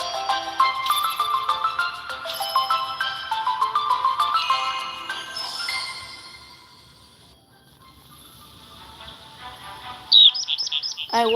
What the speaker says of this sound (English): I hear the clear and melodious chirping of the larks